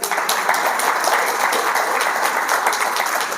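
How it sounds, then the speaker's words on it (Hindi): Crowd at a spiritual class in Hanumangarh, Rajasthan claps together in a dense, even wash of applause that holds steady and loud throughout, with no voices over it. "थोड़ा ताली बजाओ अच्छी तरह"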